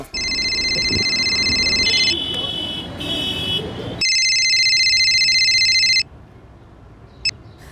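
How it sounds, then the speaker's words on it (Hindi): A telephone rings with a bright electronic trill in two long bursts separated by a short gap, fairly loud and close, with a brief chirp afterward. "जरा फोन लगाओ सुनीता दीदी को।"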